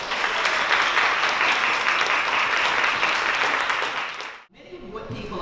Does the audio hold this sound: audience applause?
yes